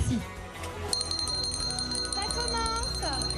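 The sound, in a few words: bell rung to start speed dating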